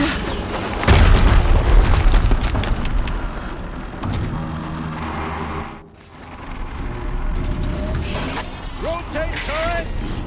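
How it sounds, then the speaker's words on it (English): Explosion in the video game Horizon Zero Dawn: a loud boom bursts out near the start, followed by rumbling debris, mechanical clatter and shattering, with a brief dip in level and then further game noises with metallic squeals. "Another explosion."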